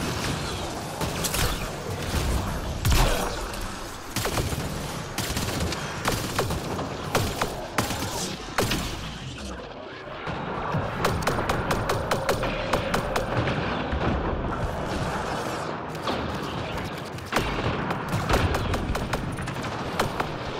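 Defense turrets in Mass Effect Andromeda unleash sustained bursts of rapid gunfire, dense crackling volleys overlapping with heavier booming shots, loud and continuous through the whole stretch with little pause.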